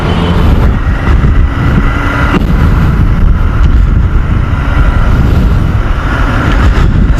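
Royal Enfield Interceptor 650 twin-cylinder motorcycle under way on the road, a loud continuous engine rumble with wind buffeting, close and steady throughout with no talk.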